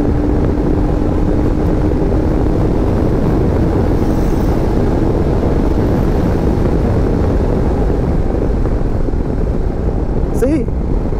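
A 2022 Royal Enfield Himalayan motorcycle accelerates on an open road, its engine a loud, steady drone mixed with heavy wind rush, a brief higher whine near the end.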